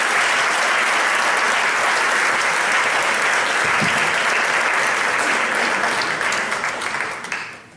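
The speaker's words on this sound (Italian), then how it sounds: "farei un grande applauso per questa trasmissione." Sustained applause from an audience at an award ceremony, the Premio Prunola 2016 prize-giving, dense and loud throughout before tapering off at the end, with no talking over it.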